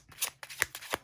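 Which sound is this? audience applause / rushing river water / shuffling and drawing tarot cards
shuffling and drawing tarot cards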